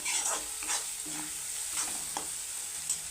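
Dal with coriander being stirred in a pan, soft repeated scraping and faint sizzling, close but quiet and alone.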